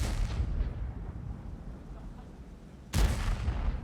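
A tank cannon fires in the World of Tanks video game: a heavy boom opens the clip, its rumble fades, and a second sharp, loud shot hits near the end.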